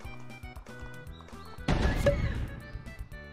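A horse whinnies in an animal simulator video game, a loud neigh bursting out briefly over game music and effects, then fading.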